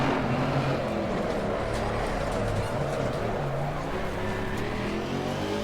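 Race car engine lapping Suzuka in Assetto Corsa Competizione, a steady loud droning roar with shifting tonal whine, continuous and close, under faint voice.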